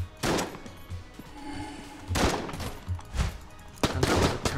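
Gunfire in the video game Enter the Gungeon comes as loud, close bursts of rapid shots in several separate volleys, set against constant game music and effects, with no speech.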